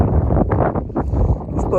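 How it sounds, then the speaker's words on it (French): Strong gusts buffet an outdoor microphone at a beach stop on a motorcycle trip, a loud low rumbling roar that swells and dips in quick bursts for the whole moment. "mais surtout c'est qu'il y a du vent."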